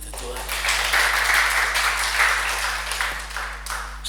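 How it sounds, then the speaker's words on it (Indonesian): Congregation clapping during a humorous church sermon, a steady patter of hands with a low electrical hum beneath, fairly close and continuous for a few seconds. "Kasih tepuk tangan itu Tuhan"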